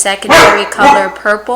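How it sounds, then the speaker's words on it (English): A dog barks several times close by, loud sharp barks interrupting a person speaking. "Sorry, that's my dog."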